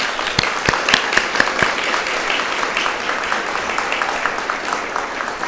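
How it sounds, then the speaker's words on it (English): A short round of audience applause at an awards forum for young research and development students, steady crackling clapping at moderate level with a few sharper individual claps early on. "let's just give a real quick round of applause for these young, productive kids over here"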